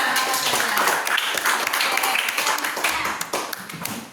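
Students in a classroom clap for group 2, a close, lively patter of many hands with individual claps audible, continuing briskly before easing off at the end.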